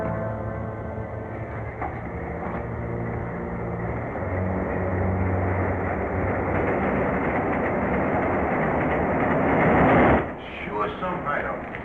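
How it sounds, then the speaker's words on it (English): A train rumbles toward subway tracks beside a third rail, a dense, steady roar that swells louder before cutting off abruptly, with voices mixed in. "There's a train coming."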